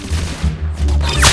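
Gunfire in the video game Arsenal, a quick burst of sharp, loud shots landing close together over a constant low game rumble, alone without talk.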